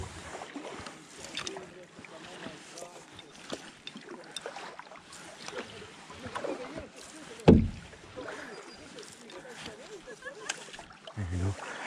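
A canoe paddled on a lake on a windy day gives soft, intermittent water swishes and drips under breezy microphone rumble, with one sharp knock partway through and a speaking voice now and then.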